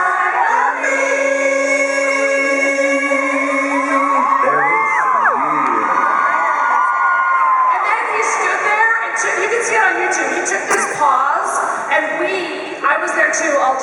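A packed crowd of fans at a Backstreet Boys sound check in Las Vegas screams, whoops and cheers nonstop, a loud high-pitched wall of shrieking voices that barely dips throughout.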